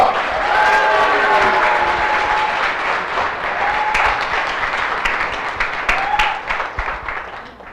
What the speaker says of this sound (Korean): 강사 이재영 리더님을 큰 박수로 모시겠습니다